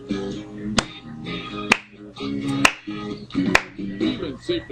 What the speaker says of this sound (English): Everyone clap your hands now, come on!